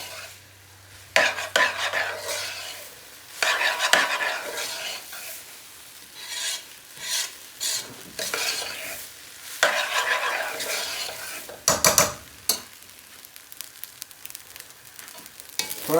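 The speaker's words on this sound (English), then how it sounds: "I've been toasting the rice away for the last few minutes" Rice toasting in ghee in a pan, a close, crackling sizzle punctuated by repeated scraping strokes of a spoon stirring against the bottom, in irregular bursts with brief quieter gaps.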